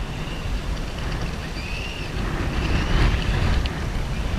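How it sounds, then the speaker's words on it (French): Steady wind blowing and buffeting across an outdoor parking lot, a continuous rushing noise that swells slightly toward the end, with no voices. "le vent fait partir les cônes maintenant"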